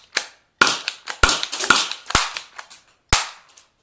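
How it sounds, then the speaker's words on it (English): Several sharp, loud gunshots from an STI Colt pocket pistol ring out in quick, irregular succession, about seven cracks over a few seconds, each with a short ringing tail and no talk. "I almost shoot my head off because I'm shooting."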